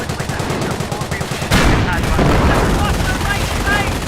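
Gunfire from the Company of Heroes World War II strategy game crackles loud and steady, dense bursts of machine-gun and rifle shots with heavier booms layered in, continuous throughout.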